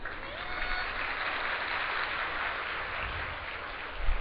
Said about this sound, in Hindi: देखो कितनी कंजूसाई से ताली बजी है